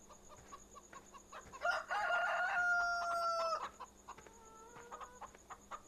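Farmyard chickens in the Farming Simulator 2013 video game cluck around a sustained rooster crow, a clear near call over a quiet steady background with scattered soft clucks before and after.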